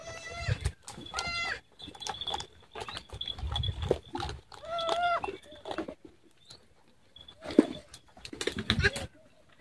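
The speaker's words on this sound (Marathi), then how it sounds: "त्या शेळीचे बघा किती करडे तयार झाले।" Goats and their young kids on a farm in Jalgaon bleat in a string of loud, wavering calls, several overlapping bursts with short pauses between them.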